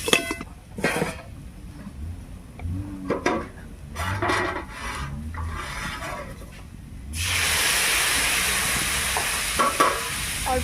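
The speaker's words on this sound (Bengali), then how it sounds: "অল্প করে একটু জল দিয়ে মশলাটাকে একটু ভালো করে কষে নিচ্ছি।" Spice paste with chilli powder, sugar and a splash of water sizzles and fries in a pan for a fish and green tomato curry, with repeated scraping stirs and a louder hiss as liquid hits the hot pan.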